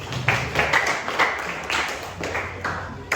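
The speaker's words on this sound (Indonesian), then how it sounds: "tepuk tangan untuk kita semua" Clapping from a classroom group after a chemistry lesson on chemical equilibrium, a moderate, fairly even patter of hands that carries steadily through the whole stretch without talk.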